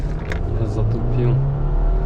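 Subaru Forester 1.8 turbo launching at a quarter-mile drag race start, a loud close engine roar with low rumbling drone rising in pitch, heard from inside the car under a voice talking.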